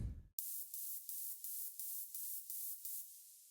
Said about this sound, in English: And then finally we have a compressed top saw noise,